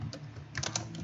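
Quick taps on a computer keyboard, a short quiet run of keystrokes close by with no voice.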